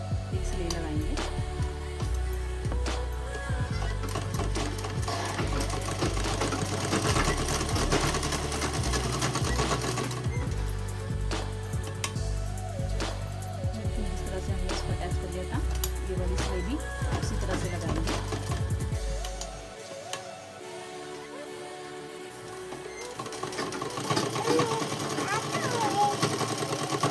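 An electric sewing machine runs steadily, stitching along the folded edge of dress fabric, a loud continuous whirring hum that drops away briefly near the end before resuming.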